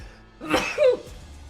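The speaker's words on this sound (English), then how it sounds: "I'm going to sneeze." A single sharp sneeze bursts out close by, followed by a short breathy tail, with quiet surroundings before and after.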